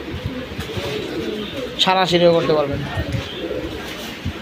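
Pigeons offered for sale, including a silver hen, coo in a short burst of rolling, throaty calls partway through, close by over steady background noise, while someone talks throughout.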